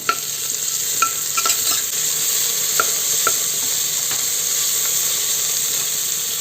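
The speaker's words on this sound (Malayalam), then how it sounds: "ഓൾ സ്പൈസസ് ആണ് ചേർത്ത് കൊടുക്കുന്നത് അതോടൊപ്പം തന്നെ ഒരു സവാള ചെറുതായി അരിഞ്ഞതിന് ചേർത്ത് കൊടുക്കുന്നുണ്ട് ഇളക്കി കൊടുക്കാം" Chopped onion and whole spices stirred in a hot pan for prawn biryani, a steady sizzle with a few scattered scraping clicks of the spoon, close and continuous with no voices.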